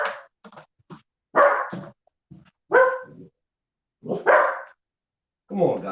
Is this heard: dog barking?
yes